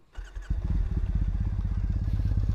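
A BMW F900R motorcycle engine cranks and catches, then settles into a loud, rapid chugging idle close by.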